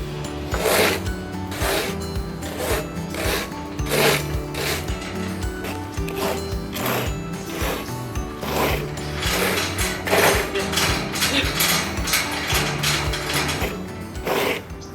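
Rake tines scrape over damp ground in an animal enclosure. The scraping repeats in a steady rhythm of strokes. It sounds close and fairly loud, and no one speaks over it.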